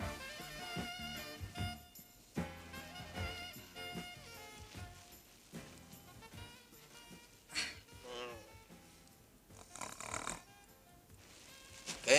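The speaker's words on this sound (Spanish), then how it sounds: "Ya empezó a roncar la mujer." A woman snoring in a 1983 Mexican domestic comedy, soft rasping breaths rising and falling in an irregular rhythm, faint and partly buried under background music and room sound.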